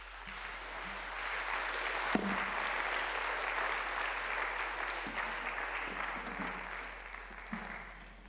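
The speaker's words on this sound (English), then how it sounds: "Let's give her one round of applause again." Sustained audience applause fills the hall at a university media and communication research conference after a presentation, a dense steady wash of clapping lasting throughout with a sharp knock near the start.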